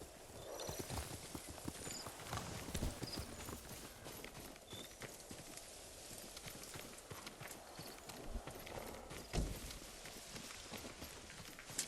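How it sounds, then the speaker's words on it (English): Horse hooves clip-clop steadily at a brisk pace in the video game Ghost of Tsushima, with outdoor ambience and the occasional snort underneath. "Horse!"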